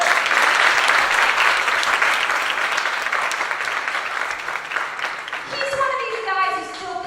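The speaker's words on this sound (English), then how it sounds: "let's have a round of applause" An audience at a talk about a race finisher breaks into loud, sustained applause, a dense wash of many hands clapping that gradually thins out near the end.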